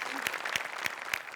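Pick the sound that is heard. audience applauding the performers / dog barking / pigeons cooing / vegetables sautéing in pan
audience applauding the performers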